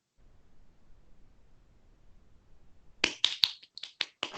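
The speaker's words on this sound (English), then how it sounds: "Gotta clap for that." Quick hand claps, about six sharp close slaps in an irregular burst following a few seconds of near silence.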